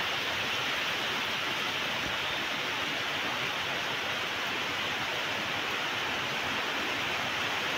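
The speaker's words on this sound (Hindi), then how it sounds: "देखिए दोस्तों कितना तेज बारिश हो रहा है, आप देख सकते हैं।" Heavy rain pours down as a dense, unbroken hiss at moderate level, steady from start to finish with no talking.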